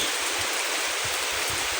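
Steady, dense rain hissing down on a river beside the Sundarbans, a continuous even wash of drops with no pauses.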